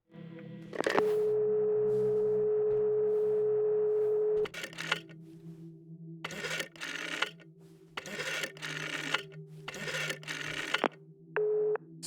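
A telephone line tone from the video game Blind Lorelei and the Laser Eyes while calling Lorenzo: a steady sustained tone for several seconds, then clicks and bursts of noisy electronic sound, and a brief return of the tone near the end.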